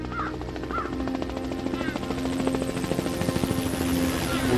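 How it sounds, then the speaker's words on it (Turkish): A helicopter flies overhead above a forest in a military operation scene, its rotor chopping steadily and growing louder, with a couple of crow-like calls early on. "Helikoptere yakalanmamak için aracı bırakmışlar Celil."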